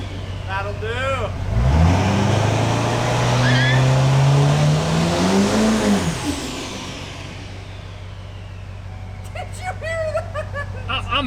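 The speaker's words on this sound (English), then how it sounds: "Did you hear the turbo?" A diesel truck with compound turbos and forged wheels revs hard, its engine rising and falling loud and close over several seconds before easing off as people talk nearby.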